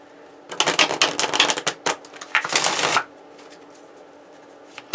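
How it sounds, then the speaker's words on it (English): Rapid riffling and snapping of an oracle card deck being shuffled up close for a few seconds, then quiet. "Shuffling an oracle deck now."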